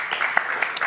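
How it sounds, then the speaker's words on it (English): Brief burst of audience applause at a temple class, a steady patter of hands with a few sharper claps standing out, fairly loud and close. "Let's give a round of applause to them."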